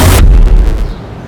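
A single gunshot fired by a police officer on duty cracks loud and close, then a short booming echo dies away.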